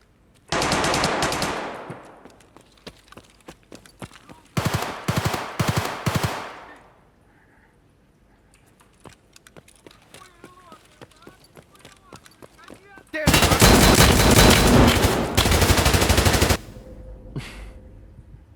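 Desert Eagle pistol fire in the game Escape from Tarkov, heard as loud close bursts of rapid shots in three separate clusters, with quieter gaps of footsteps and movement between them and no talking.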